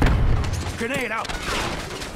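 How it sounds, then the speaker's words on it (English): A grenade blast and a burst of gunfire erupt in Call of Duty: Black Ops 6 multiplayer, a loud boom with rapid shots and a short voice callout over them. "Grenade out."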